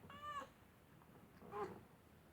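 Two short meows from Midget, a 14-year-old cat, one near the start and another about a second later, both fairly faint against a quiet room.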